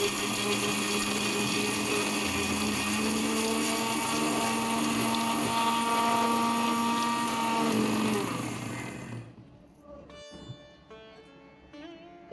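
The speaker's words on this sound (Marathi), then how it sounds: "हा मधला जार होता ना 2 नंबरचा, त्यामध्ये मी हे शेंगदाणे आपल्यास बारीक करून दाखवतो." Indicon Turbo 1300W copper-motor mixer grinder grinding peanuts in its middle stainless steel jar, a loud steady whirring grind for about nine seconds that then cuts off, leaving quiet clinks and handling.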